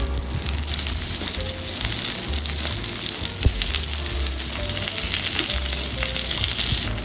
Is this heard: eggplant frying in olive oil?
yes